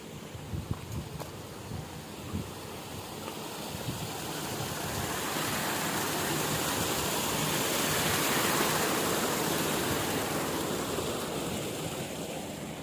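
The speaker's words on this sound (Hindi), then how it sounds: "यहाँ पे पानी बहुत ज़्यादा है, झरने झुरने बहुत ज़्यादा है।" Waterfalls and flowing water near a village on the Narmada pilgrimage route roar steadily, the rushing wash swelling louder midway and holding as a dense constant noise.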